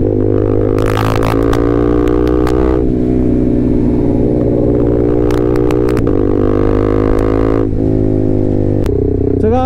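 A KTM RC 390 motorcycle fitted with a full-system exhaust revs loudly and close, its engine droning with several throttle blips and pitch shifts throughout.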